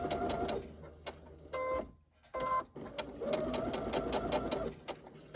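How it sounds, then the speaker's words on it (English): A sewing machine runs a straight stitch around an appliqué along a marked interfacing line, a close rapid mechanical whir in steady bursts with a brief pause midway. "just straight stitch, following around the line I marked on the interfacing, and I'm going all the way around"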